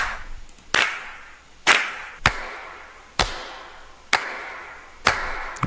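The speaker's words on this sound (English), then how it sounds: "now we can layer these claps together to make them sound really big" Layered stadium-style hand claps, made as samples in Suno AI, strike in a steady rhythm about once per second, each a sharp loud crack with a short roomy tail, alone with no talking.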